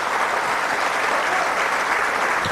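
An audience in the National Assembly applauding, dense sustained clapping from many hands, loud and continuous with no pause.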